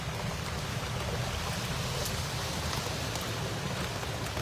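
Steady rain falling outdoors at Big Cat Rescue during Tropical Storm Elsa, an even, dense hiss with low rumble, constant and unbroken, with no voices.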